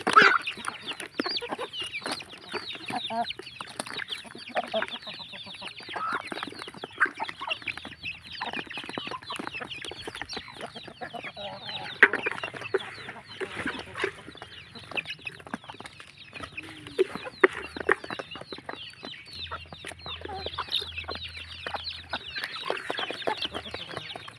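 A flock of chickens clucking and chattering continuously, many overlapping birds at close range, with the odd louder squawk rising above the busy din.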